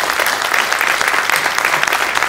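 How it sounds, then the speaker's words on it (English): Close, loud and continuous clapping from an audience after a technical talk on an open-source archival scanning robot, a short, unbroken burst of applause. "Big round of applause"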